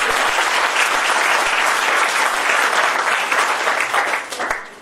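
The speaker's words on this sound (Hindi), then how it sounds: "एक बार मैं जोरदार तालियां करूंगा" Loud, dense applause from a crowd at a talk, sustained for several seconds before tapering off at the end, with no speech over it.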